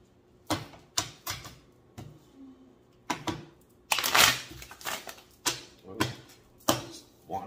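Tarot cards being shuffled by hand, heard as close, crisp riffling bursts that repeat roughly every half second to second, with short quiet gaps between them.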